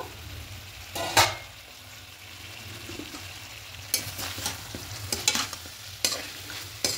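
Chicken being stirred and sautéed in a pan over a medium flame, a low steady sizzle broken by several sharp scraping and clattering strokes of the spatula, close and without speech.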